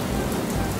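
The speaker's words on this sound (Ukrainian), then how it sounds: "Що це, злива?" Cartoon downpour sound effect: a steady, dense hiss of heavy rain filling the short moment, loud and even with no voices over it.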